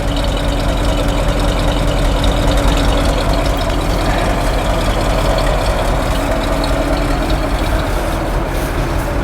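A 1952 Ford F4 truck engine idling while still cold, a steady low rumbling chug heard up close and continuous with no voices.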